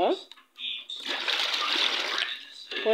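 Hot water runs from a tap and splashes steadily into a basin for about two seconds, preceded by a few brief handling sounds.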